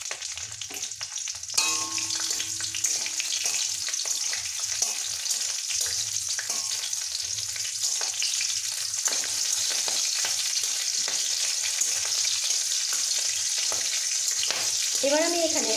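Whole garam masala spices, bay leaf and green chillies sizzle in hot ghee with a steady, bright crackle, close and continuous, with occasional stirring through it.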